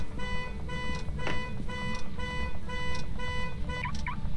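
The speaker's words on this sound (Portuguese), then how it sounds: "Disparou o alarme do carro." A car alarm in the game Phasmophobia blares with repeating electronic tones, pulsing in a steady cycle over a low rumbling background.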